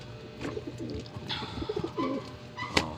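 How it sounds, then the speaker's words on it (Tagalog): Soft, repeated pigeon coos in short phrases, close by, with a few brief chirps and light background noise. "may kalapati po kayong ganyan"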